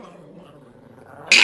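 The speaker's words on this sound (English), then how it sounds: "This is my dog, and she loves me." A pet dog growls low and steady for about a second, close and alone, before a sudden sharp, loud burst cuts in at the end.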